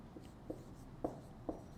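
Chalk or marker taps and short strokes on a classroom board as a teacher writes a sentence, with three or four faint, separate scratches and clicks in a quiet room.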